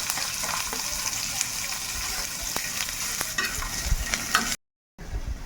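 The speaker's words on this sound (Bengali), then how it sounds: "প্রথমেই দিয়ে দিচ্ছি গোটা জিরে, তারপরে দিয়ে দেবো এর মধ্যে কুচিয়ে রাখা পেঁয়াজ" Whole cumin and chopped onion fry in hot oil with a steady, close sizzle and occasional scraping stirs. The sound cuts off abruptly for a moment near the end, then resumes.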